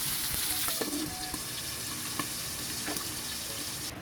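Pork pata simmering and sizzling in a covered pan for adobo, a steady close frying hiss with faint crackles throughout and no talk.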